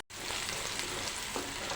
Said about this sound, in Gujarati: આપણી રાઈ ફૂટવા માંડી છે